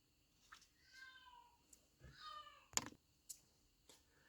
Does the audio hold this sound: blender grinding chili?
no